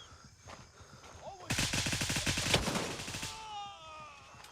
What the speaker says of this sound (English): And mag dump straight into his shoulder.